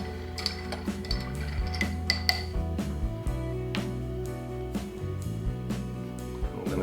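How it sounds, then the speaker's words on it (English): A vodka and cranberry juice cocktail stirred with ice in a Collins glass, a series of close, bright clinks and rattles of ice against glass at an irregular gentle rhythm, with no talk. "Go ahead and give this a gentle stir."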